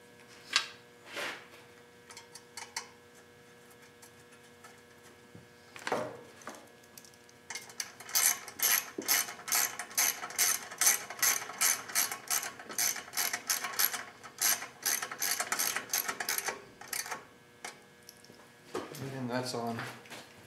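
A ratchet wrench tightening the dipstick housing back onto a Tecumseh lawn mower engine, a long run of rapid, close, crisp clicking strokes with brief pauses, and a voice speaking at the end.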